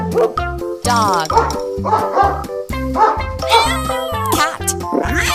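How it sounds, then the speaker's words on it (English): A dog barks and yips in a rapid series of sharp, close, loud barks mixed with whimpering yelps, sounding somewhat processed or cartoon-like. "Dog."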